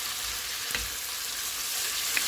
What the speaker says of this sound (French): Je vais laisser vraiment mijoter